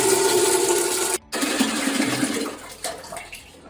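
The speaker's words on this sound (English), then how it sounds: "Next thing we're going to do is fill up our bucket with water first and then the chemical." Running water filling a cleaning bucket in a washroom, a close steady splashing rush broken by one brief pause, then resuming with a few knocks.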